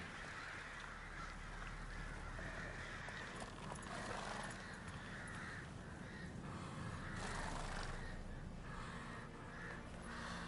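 Crows caw around a hanging tree in The Witcher 3, their calls blending into a steady, dense outdoor game ambience that holds at an even level throughout.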